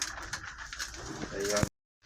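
A pigeon coos outdoors on a snowy morning, a low soft call close by near the end, over wind noise and someone talking.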